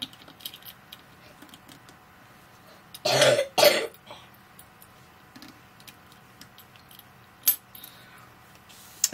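A metal zipper jig bar is set down onto a zipper, two close clinking metallic knocks in quick succession, followed later by a faint single tap in a quiet room.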